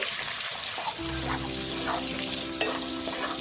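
Cubed capsicum and onion petals frying in a pan for Kolkata-style chilli fish, a constant crackling sizzle punctuated by several stirring scrapes and clinks.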